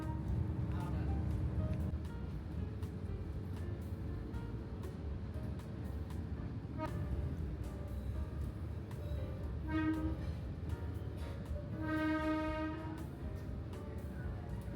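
Batara Kresna tram train running along rails laid down the middle of a city's main street, a steady rumbling roll with horn-like tonal blasts rising over it, heard close under continuous voice-over talk.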